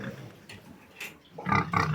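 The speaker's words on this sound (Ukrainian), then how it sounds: "Оця свиня дуже криклива." Pigs grunt and squeal nearby, a few short rough calls building to louder, harsher squeals toward the end.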